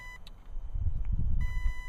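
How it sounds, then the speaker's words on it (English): Short electronic beep code from the ESC of a ready-to-fly Dynam Hawk Sky RC plane, a few thin tones at the start and again near the end over low handling rumble. "Not sure why we're getting beep code there."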